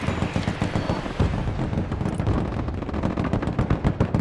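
Dense, continuous gunfire from units in the real-time strategy game Broken Arrow, rapid overlapping machine-gun bursts and heavier thumps filling the whole stretch at steady high loudness with no talking.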